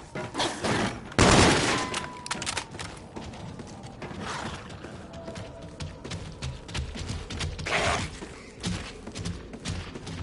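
Gunfire from a weapon in a zombies video game set in a space-themed park, rapid bursts of shots with a sharp loud crack early and another burst later, amid thumping game noise.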